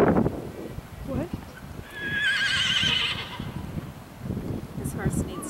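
A competition horse lets out a loud, wavering whinny at a hunter trial, rising and trembling for about a second, with hoof clip-clop and someone talking around it.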